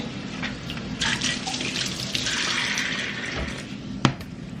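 Running tap water splashes steadily into a kitchen sink while meat is rinsed, a continuous hiss with a few clunks and a sharp knock near the end.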